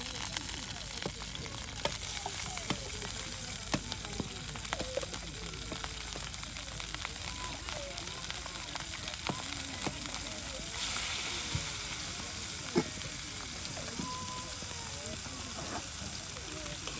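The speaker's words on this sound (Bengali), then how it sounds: "একদম মশমশি ভেজে নেওয়া হচ্ছে" Spices fry in a pan at a riverside camp cooking fire, a continuous close sizzle with scattered stirring clicks and scrapes, while people talk faintly over it.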